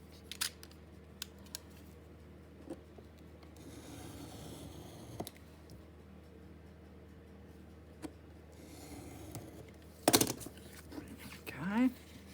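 Scissors slicing through a sheet of card, cutting it roughly down the middle during a craft session, heard as a soft, quiet, continuous rustling snip with a few sharper clicks toward the end, alone in a hushed room.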